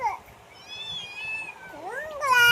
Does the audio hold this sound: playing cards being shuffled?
no